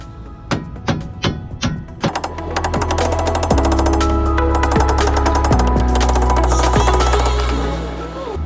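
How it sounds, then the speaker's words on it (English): Several sharp hammer blows ring out close by as a lock washer is driven against the flat of a tie rod during a steering rack swap on a BMW E30, followed by sustained tonal music. "So we just gotta hammer it in there."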